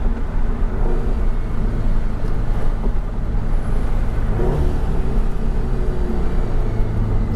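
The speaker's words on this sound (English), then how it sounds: "The car's running great otherwise. I mean, with full E85," A car running on full E85 fuel idles and revs steadily, its engine a loud continuous rumble that holds close and unbroken throughout, with no talking over it.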